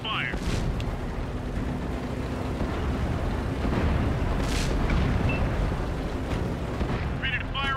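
A tank cannon fires and shells explode in World of Tanks, with heavy booms over a dense, continuous engine and battle rumble while voices talk throughout.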